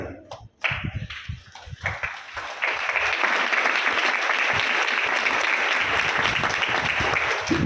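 Audience at a Jain sermon in Shirpur breaking into applause: a few scattered, hesitant claps at first, then a full, steady burst of many hands clapping close and loud, sustained to the end.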